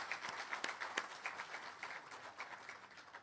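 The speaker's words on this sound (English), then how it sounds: "Can we really give Professor and his team a round of applause?" Quiet applause from a university colloquium audience honoring a professor and his team, a scattered patter of hands with a few distinct nearby claps, heard faintly with no talking.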